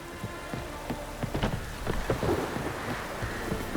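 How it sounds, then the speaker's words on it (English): Rain falls in The Witcher 3, a steady hiss of drops broken by scattered sharper patters and splashes, with a faint low rumble underneath and no speech. "Hope rains like this come sowing time."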